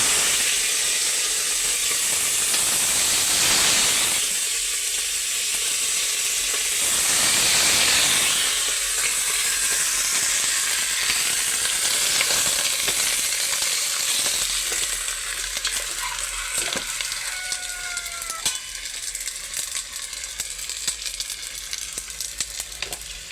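The hunter's catch frying in hot oil, a dense continuous sizzle and hiss close by, with occasional stirring and light metallic clinks from the pan and rising bubbling toward the end; no talking.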